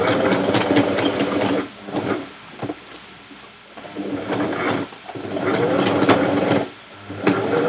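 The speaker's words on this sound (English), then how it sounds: "Finish sewing this doodle-doo thing." Sewing machine stitching fursuit fabric, running in fast mechanical bursts with brief pauses between runs, close and fairly loud without talking.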